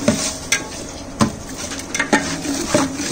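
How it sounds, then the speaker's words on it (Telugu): Tomato, salt and turmeric frying for fenugreek dal: a low sizzle with a few sharp clinks and scrapes of a spoon stirring against the pan, close and without talk. "ఇప్పుడు దీన్ని మనము బాగా ఫ్రై అనేది అవనివ్వాలండి"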